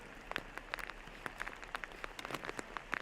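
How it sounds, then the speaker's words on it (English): Rain falling outdoors during a college disc golf championship in Missouri, with a soft, continuous patter broken by frequent light drop ticks, fairly quiet and with no talk. "The rain's coming down now at this point."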